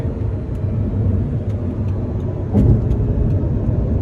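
A 2009 Audi R8 with its 4.2-litre V8 drives along, giving a steady, loud, low engine rumble heard from inside the car, with no talking.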